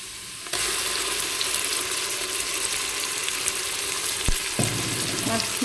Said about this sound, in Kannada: ಇವಾಗ ರುಬ್ಬಿಟ್ಟ ಮಸಾಲೆ ಹಾಕ್ತಿದ್ದೇನೆ